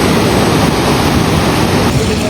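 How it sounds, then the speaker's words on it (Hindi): Sumar Nala, a glacial meltwater stream running high and forceful, rushes in a loud, dense, continuous roar of water that stays steady throughout. "देखें भाई साहब पानी का प्रेशर कितना ज़्यादा है। इन दिनों में ऊपर ग्लेशियर पे गलते हैं तो इतना तेज़ पानी आता है।"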